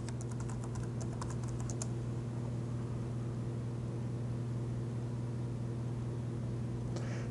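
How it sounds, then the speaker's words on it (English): Typing on a computer keyboard: a quick burst of close, crisp keystrokes over a constant hum, then a long quiet stretch before a few final taps. "Here I'm just going to type in Spybot."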